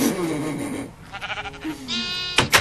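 Minecraft sheep give several wavering bleats in the video game, a long one at the start and shorter ones later, up close and loud, mixed with other quick game sounds.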